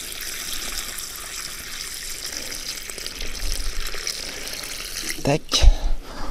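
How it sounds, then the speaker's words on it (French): Water poured into a homemade garden fertilizer mixture, a soft steady trickle running quietly through the background before a brief louder splash near the end. "Vous mettez un petit peu d'eau."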